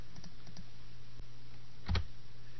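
A computer keyboard is typed on while a value is entered into a field in Excel's print settings. There are a few light clicks and then one louder, close keystroke over a steady low hum.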